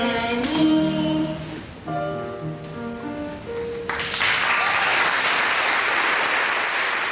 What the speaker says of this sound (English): A round of applause, not just for a song well sung, but for a young boy's determination just to take part